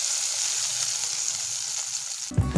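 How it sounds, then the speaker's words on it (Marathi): Hot oil tempering of mustard seeds and dried red chilli, a continuous close sizzling hiss that ends in a sudden louder burst and clatter as it is poured onto coconut chutney. "आता हा तडका यावर घालायचा, म्हणजे मस्त असा चटणीला तडका बसतो"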